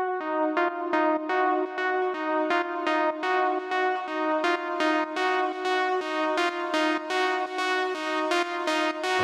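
A steady run of bright, plucky Serum synth notes repeating in a quick rhythm, with the tone opening up and sounding brighter partway through as the filter cutoff is automated.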